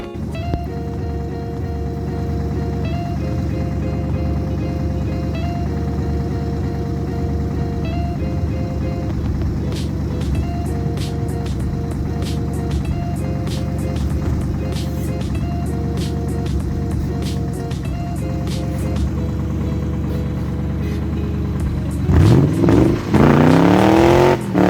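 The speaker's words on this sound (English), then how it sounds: "let's just roll the clip and let me show you the burnout." A Ford Mustang drift car runs with a loud, steady engine drone and light ticking for most of the stretch, then revs sharply upward in a rising surge near the end.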